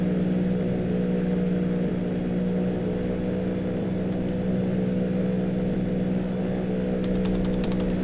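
Steady droning airplane engine from the video game GTA San Andreas, a constant mechanical hum with a strong low tone held for the whole stretch, with faint clicks near the end and no talking.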